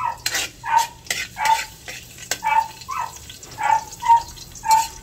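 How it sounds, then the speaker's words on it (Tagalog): A spatula scrapes rhythmically across a pan while sautéing garlic and spices for chicken adobo, with regular strokes about every half second over a soft sizzle. "Magigisa na po ako."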